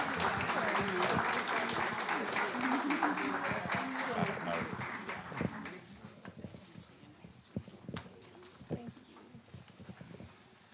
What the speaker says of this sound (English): let's give our board a round of applause